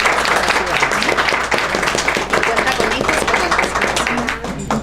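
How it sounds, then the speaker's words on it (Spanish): Audience applause at a book presentation on high abilities, a dense, steady wash of many hands clapping close by that continues throughout without pause. "Un fuerte aplauso, por favor."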